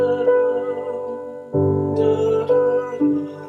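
A piano sounds a sustained G drone with sparse improvised notes on top, played close with struck chords every half second to second and resonant ringing tails between them.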